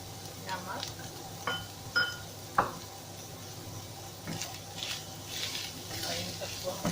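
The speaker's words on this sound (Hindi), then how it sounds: "और इन सबको हमें करना है फ्राई।" Green chili, black pepper and salt fry in a pan under a soft, steady sizzle, with scattered clinks and scrapes of a spoon stirring against the pan; a voice speaks faintly in the background.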